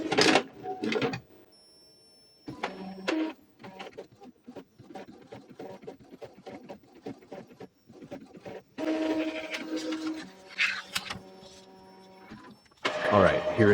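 An Epson inkjet printer prints a nozzle check sheet, its print head shuttling back and forth in repeated mechanical whirs and clicks, with louder motor and paper-feed runs near the start and end.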